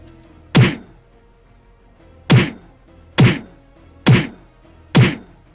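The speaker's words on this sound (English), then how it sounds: "firstly slaps her silently before following up with a thumping slap" Five heavy thumping slaps land in a film scene, each a sharp isolated whack followed by a short decay, irregularly spaced with quiet gaps between and no talking.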